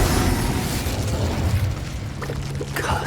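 The Incendio fire spell cast in Hogwarts Legacy on PS5 bursts out as a loud, sustained fiery whoosh with a deep rumbling boom that fades slightly, then ends in a few faint crackles.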